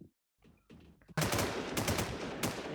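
Bursts of rapid automatic gunfire in the Warz Infestation video game, a dense, loud stream of shots after a few sparse knocks, close and continuous to the end.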